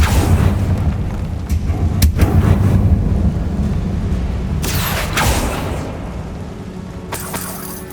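Heavy booming blasts from the Confringo and Bombarda spells in the game Hogwarts Legacy, a loud rumbling roar with several sharp cracking bursts layered over it that slowly fades.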